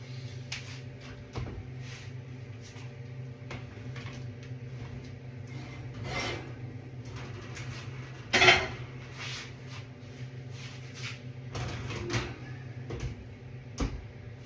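A baked sourdough loaf, cooked uncovered for about 24 minutes, is pulled from the oven. Quiet metallic ticks, scrapes and a sharper clank come over a steady low hum, with no one talking.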